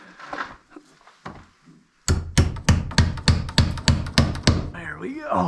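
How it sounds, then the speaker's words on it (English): A little hammer strikes around ten quick, evenly spaced blows during plumbing work in an old house, starting after a stretch of quieter shuffling and faint voices. "Little hammer."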